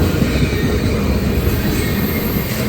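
CSX ethanol train led by Canadian National locomotives on the Old Main Line, a loud, close, steady rumble of rolling railcars with wheel noise and faint squealing, alone without talk.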